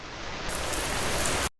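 Heavy rain comes down in a dense, loud, steady shower of hissing drops, filling the whole stretch without pauses until it cuts off abruptly at the end.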